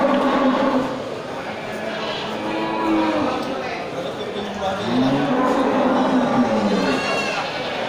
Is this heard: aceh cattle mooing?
yes